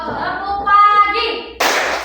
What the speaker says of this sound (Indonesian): Tepuk pagi 1 kali, siang 2 kali, sore 3 kali ya